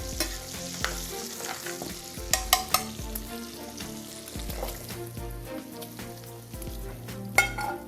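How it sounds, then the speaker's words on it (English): Bacon rendering in a pan, fat bubbling and frying with a constant crackling sizzle, while repeated utensil scrapes and clicks come through close up at an irregular pace, no one talking. "our bacon is rendered, starting to bubble a little bit"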